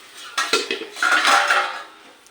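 Metal cooking pots bought from a scrap dealer clank and clatter as they are handled, with sharp close knocks followed by a ringing, jangling rattle of metal against metal, loud and without talk.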